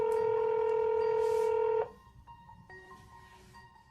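A telephone number being keyed in as a phone call is placed, with steady loud dial tones giving way to a rapid series of separate touch-tone beeps over a quiet line.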